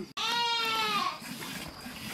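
A single loud, close animal bleat with a wavering voice, most likely a sheep from a flock at a mountain sheepfold in Muncelul Dobraii. It lasts about a second and is followed by faint rustling.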